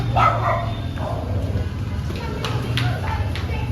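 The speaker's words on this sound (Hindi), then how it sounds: "दो कुत्तों में हुई लड़ाई।" Two dogs fight, giving bursts of barking and yipping at close range, with people's voices heard alongside the scuffle.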